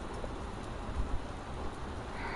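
Rain falls steadily during a severe wind storm in Omaha, a dense wash of patter with a few brief louder thumps mid-clip, heard close and without speech.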